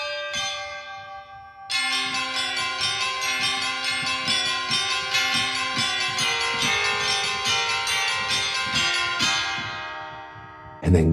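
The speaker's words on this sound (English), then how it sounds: "Okay, the high bells." High bells from the Vienna Symphonic Library Big Bang Orchestra play a rapid, bright cascading pattern after a soft opening tone, sustained and fairly loud, ending with a sudden low hit.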